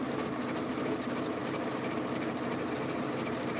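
Sewing machine stitching down a Christmas tea towel, a steady fast mechanical whirring hum with rapid needle chatter, close and continuous throughout.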